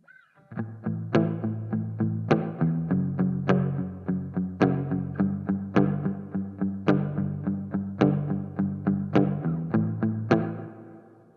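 Electric guitar through a Marshall MG15CFX amp's studio reverb plays a steady run of plucked notes and chords with a spacious reverb tail ringing behind each hit, loud and alone.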